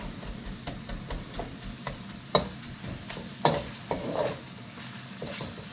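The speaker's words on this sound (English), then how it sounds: "now we're going to throw in our onion as well and get some colour happening on that" Onion sizzles in a stir-fry pan for beef and broccoli while a utensil stirs and scrapes, with a few sharper clinks against the metal over a steady close frying hiss.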